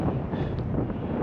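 Strong wind gusts buffeting the microphone at a campsite in Guadalupe Mountains National Park, a steady loud roaring rush that swells and eases over a little more than a second, with no voices.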